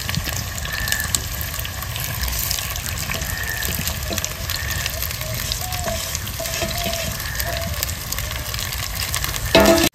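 Marinated mutton fries in a clay pot with a loud, continuous sizzle and crackle, stirred now and then, heard close.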